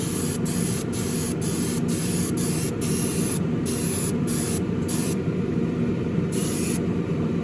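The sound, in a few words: spraying final wet coat of lacquer on model car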